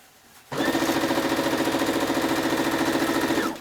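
A sewing machine starts abruptly and stitches a hanging sleeve onto the back of a quilt, running as a loud, close, steady rapid mechanical whir for about three seconds before stopping.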